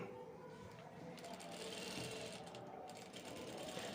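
A sewing machine stitches a men's kurta, with a faint, continuous rapid mechanical whirring running throughout, close by and quiet.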